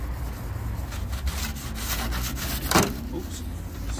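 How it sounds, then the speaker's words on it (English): Hand sanding on the body of a Ford Transit van before painting, with repeated scraping strokes in a steady rhythm at close range and a louder rasp near the end. "First of all, sanding stage"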